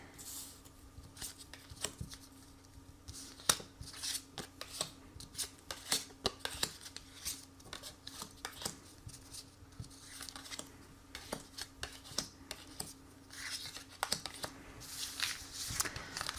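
Tarot cards being shuffled and drawn for a reading, a continuous dry patter of card edges riffling and slapping with sharp flicks and taps throughout, close and fairly soft, with no talking.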